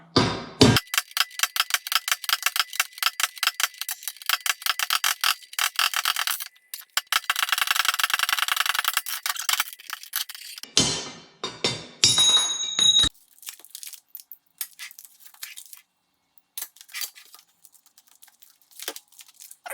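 Metal-on-metal tapping as bearing races are driven out of a rebuilt 1966 C2 Corvette differential, close and loud, in rapid bursts of strikes with short pauses between them.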